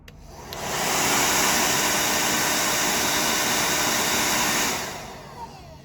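A Xiaomi ShowSee A1-W hair dryer runs on its strong warm setting, spinning up to a loud, steady airy roar for several seconds, then winding down, with no talk over it.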